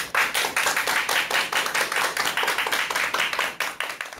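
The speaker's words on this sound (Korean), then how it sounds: "여러분, 큰 박수 부탁드립니다." Audience in a lecture hall applauds steadily to welcome a parenting education expert, a dense, even wash of many hands clapping for about four seconds with no voices over it.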